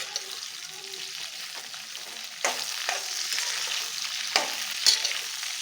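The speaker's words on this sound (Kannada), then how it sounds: "ಈಗ ಎಣ್ಣೆ ಬಿಸಿಯಾಗಿದೆ, ಬೆಂಡೆಕಾಯಿ ಹಾಕ್ಕೊಳ್ತಾ ಇದ್ದೀನಿ." Okra lands in hot oil in a pan and fries with a bright, steady sizzle, marked by a few sharper crackles and stirring noises close by.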